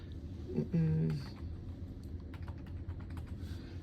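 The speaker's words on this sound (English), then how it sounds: "So we're gonna type this in right here in the search bar" Quick bursts of keyboard typing into a computer search bar, light rapid clicks in the second half of the clip under a steady background hum, following a brief voiced sound near the start.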